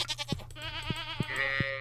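Sheep bleating in the Stardew Valley farming game, a long wavering bleat over a steady low drone, with several short soft thumps spaced through it.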